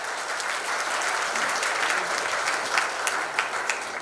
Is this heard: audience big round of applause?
yes